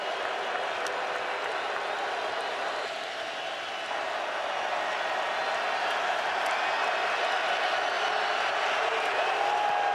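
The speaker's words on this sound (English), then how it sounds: "Kentucky crowd getting into this one here." Football crowd in Kentucky's stadium at a 2018 game against Mississippi State, a steady broadband roar of cheering and applause filling the whole stretch, loud and continuous with a brief dip early on.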